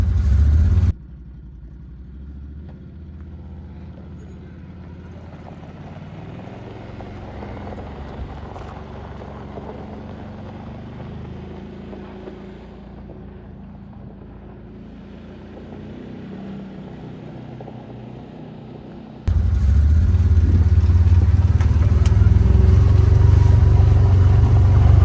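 A Can-Am Defender HD8/HD9 UTV engine drones steadily while driving, close and continuous, with a louder, fuller roar at the start and again in the last few seconds.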